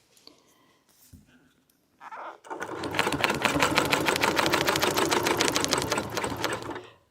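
Domestic sewing machine stitching through a quilt, a steady rapid needle chatter starting after a few quiet handling noises and running continuously for about five seconds, loud and close, with no talking.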